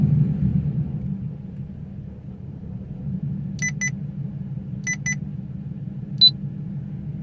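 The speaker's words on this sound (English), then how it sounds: "Just ignore the beeps, that's my radar." Several short electronic beeps from a radar detector, in quick pairs and then a single tone, sound over a low engine rumble inside a car.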